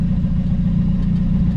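A 1985 Ford Ranger engine with a faulty throttle cable idles steadily, a loud, continuous low rumble with a slight uneven flutter from a misfire, with no speech.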